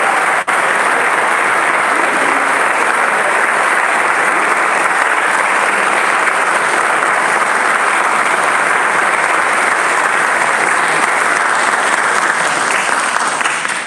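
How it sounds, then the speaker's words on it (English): Sustained applause from a large audience at a college fraternity and sorority awards ceremony, loud and steady throughout with no talk over it. "Give yourself a round of applause."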